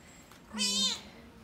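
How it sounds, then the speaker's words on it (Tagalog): A cat gives a single clear, drawn-out meow close by inside an apartment, alone against a quiet background. "Oh, pusa."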